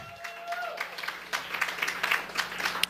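Comedy club audience at a comedy night breaking into applause and cheering, a rising wash of clapping with scattered whoops that continues steadily to the end, fairly close and lively.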